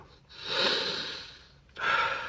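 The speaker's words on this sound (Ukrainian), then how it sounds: "Закриваєш праву ноздрю і починаєш дихати лівою ноздрю." A person breathes through the left nostril with the right nostril closed: a long airy inhale, a quieter pause, then another breath beginning, close and alone in a quiet room.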